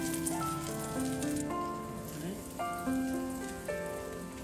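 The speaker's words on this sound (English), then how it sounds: "See, look, you want to hear that sizzle." A steady, hissing sizzle of a pork cutlet frying in a pan, heard beneath continuous background music.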